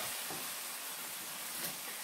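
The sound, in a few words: gently stirring ackee and saltfish with pepper in a pan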